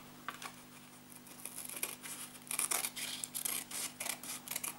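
Scissors snip the folded top flap off an old paper envelope being made into a bookmark, a faint close sequence of crisp clicks and rustling cuts with no talk.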